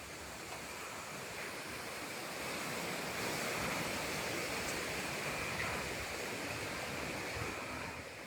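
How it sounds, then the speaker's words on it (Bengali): Rushing floodwater after a sudden flash flood in a village, a dense continuous roar like heavy surf with some wind buffeting, steady and loud throughout with no talking. "খালি পানি আর পানি"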